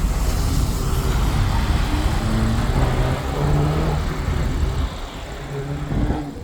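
An Audi RS5 launching at an autocross on a wet day, a deep engine drone building and shifting pitch under steady road and wind noise, heard from inside the car.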